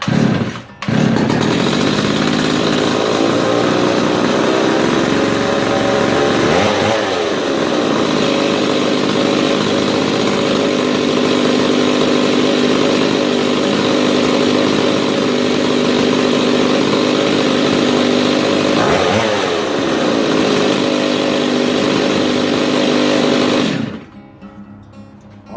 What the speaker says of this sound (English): So you can hear there, man, that saw's got a really good lick to it